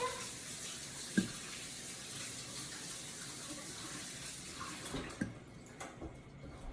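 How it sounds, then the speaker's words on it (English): Tap water runs steadily into a kitchen sink while hands are washed, a faint hiss with a couple of soft clunks and splashes near the end. "Wash my hands quickly."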